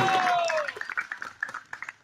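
An audience at a spiritual quiz competition between matajis and prabhujis claps for a correct answer. A voice is heard at first, then scattered, uneven claps break out in short bursts.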